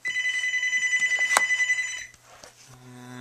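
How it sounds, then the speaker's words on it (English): A telephone rings nearby in a warbling electronic trill for about two seconds, then cuts off, leaving faint room noise and a low hum. "And you'll have to excuse the ringing phone."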